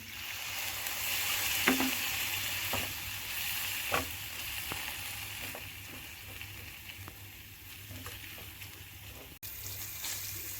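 Flour cooking on low heat in a pan for chicken roll filling gives a steady soft sizzle, with a few scraping stirs standing out near the start and middle, close and fairly quiet throughout.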